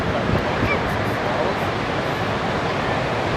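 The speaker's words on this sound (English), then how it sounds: "He's going to hit some waves for sure" Ocean surf breaks around a boat off Ocean Beach, a steady broadband wash of churning water and wind noise, fairly loud and continuous throughout with no clear individual wave crashes.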